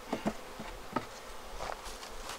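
Honeybees buzz around an open hive while the colony is being moved. The drone is faint and close, with a few brief, louder passes near the start and no voices.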